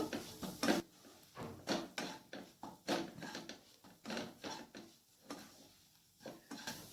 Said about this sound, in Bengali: এরপর গুঁড়ো মশলাটাকে ভালো করে ভেজে নেব।